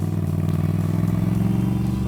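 A Moto Guzzi V9 Roamer motorcycle on a test ride, its engine a steady, close, throbbing rumble that holds an even pitch throughout, with no voices.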